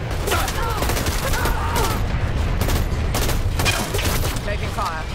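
Gunfire in the first-person shooter Dirty Bomb, dense bursts of rapid automatic shots and booms cracking continuously, loud and close, with voices calling out briefly amid the shooting.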